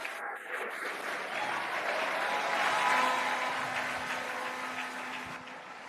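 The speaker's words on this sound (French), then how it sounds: "Lagos, applaudissons Jésus très fort ce soir." A church congregation at a revival service in Lagos claps together, a dense roar of applause that swells toward the middle and then slowly fades. Faint cheering is mixed into the clapping.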